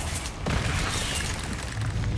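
Confringo fire-blast spell cast in the video game Hogwarts Legacy, a sudden loud burst at about half a second that rolls into a sustained, dense roar of fiery rumble lasting to the end.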